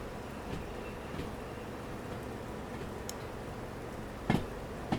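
Train rolling along tracks in the railway simulator game Derail Valley, a low continuous rumble with faint rhythmic clicks and a couple of sharper clunks near the end.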